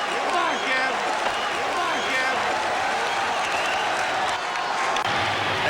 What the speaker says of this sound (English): the crowd comes very much alive again as Kevin Mitchell comes to the plate